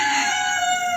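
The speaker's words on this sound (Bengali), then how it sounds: "এ পাশটায় মুরগি।" A rooster crows in a garden estate in Kuwait, a loud, sustained close call lasting the whole brief moment.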